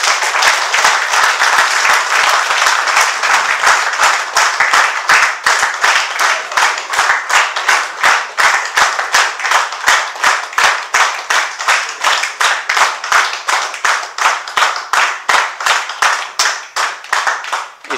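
A live audience at an onstage conversation event breaks into loud, sustained applause that steadily settles into rhythmic clapping in unison, close and full for the whole stretch.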